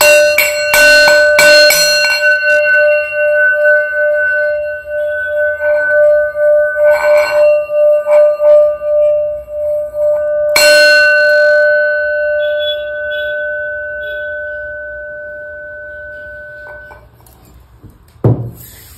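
A small bell rings during a tarot card reading: a burst of rapid bright strikes, then a sustained shimmering ring that slowly decays, struck again once near the middle before fading out.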